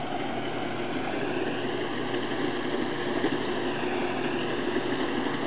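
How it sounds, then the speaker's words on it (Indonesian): A modern rice-harvesting thresher engine runs in a steady, dense mechanical drone with a constant loud broadband roar and no pauses or talk. "ini mesin mesin thresher ya"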